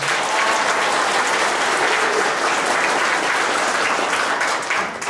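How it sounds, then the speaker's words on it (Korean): Sustained audience applause at a Black Yak 2019 launch ceremony for mountaineering, honoring expedition leader Kim Mi-gon; dense, even clapping from a large crowd that fills the room, steady for several seconds before easing slightly at the end. "김미곤 대장님에게도 박수 한번 보내주시기 바랍니다"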